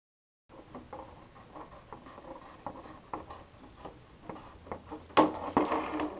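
Scissors made for polycarbonate rough-cut a 1/10 scale RC car body, giving a run of soft, irregular snips and crinkly plastic crackles close up. The cuts grow louder and sharper toward the end, with no talking.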